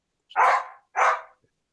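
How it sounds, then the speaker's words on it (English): A dog barks twice, each bark sharp and full, with a short gap between, cutting in during an online public commission meeting. No one talks over it. "Okay, we got a question from the dog."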